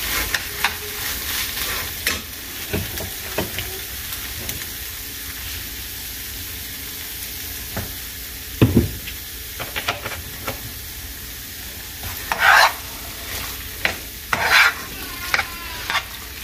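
Noodles being tossed in a hot pan for tallarines a la huancaína, with scattered scraping stirs over a soft steady sizzle and a few louder clattering strokes near the end.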